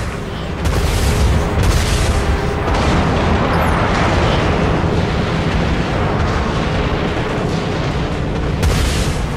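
Vulture missiles launching and exploding in the Dreadnought space combat game, producing a loud, sustained roar of booming blasts that fills the whole stretch without letup.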